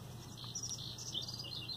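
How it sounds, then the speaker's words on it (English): Birds chirp in mountain trees near South Lake Tahoe, small high tweets scattered faintly over a steady outdoor hiss and low background hum. "and yeah, you can hear the birds chirping,"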